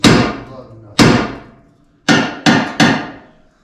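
Five sharp metallic hammer blows land on a car suspension part during a 2014 Dodge Challenger R/T suspension upgrade. They are close and loud and come at uneven intervals, the last three in quicker succession, with no talking.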